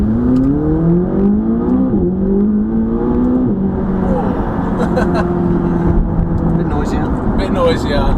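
The cheapest McLaren sports car accelerates hard on a road near a roundabout, its engine note climbing through rising revs with a gear change, loud and close from inside the cabin.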